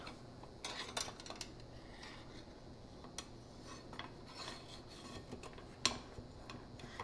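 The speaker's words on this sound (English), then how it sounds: "I'll take the top part of the grill and then close it." Metal grilling basket lid closed down over mackerel, giving a few light metallic clinks and rattles, quiet and close, with a sharper clack near the end.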